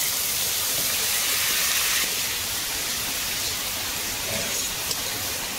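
Cucumber pieces hitting hot oil with fried onions in a pan for an Assamese cucumber and fish curry, a loud steady sizzling hiss that flares in the first two seconds and then settles.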